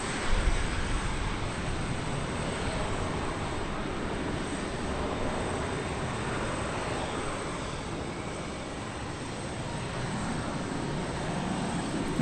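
A Sun Country Boeing 737-800 airliner at DFW Airport produces a steady, moderately distant jet roar that holds evenly throughout, with no voices over it.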